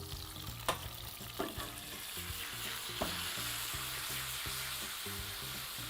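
Garlic and mint sizzle in a hot pan for a Dul Avrat soup sauce: a steady, dense frying hiss with a few sharp utensil clicks and scrapes as the pan is stirred. No voices.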